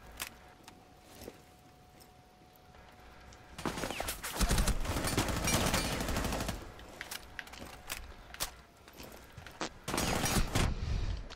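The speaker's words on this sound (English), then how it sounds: "Then you fucking shot her in the head" Gunfire in a tactical shooter video game, with scattered single shots followed by sustained bursts of loud automatic fire and a closing burst near the end.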